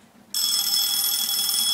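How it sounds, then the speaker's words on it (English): A phone begins ringing abruptly with a steady, bright, high electronic tone that continues without pause, loud and close, during Black Ops 2 gameplay. "my phone is ringing"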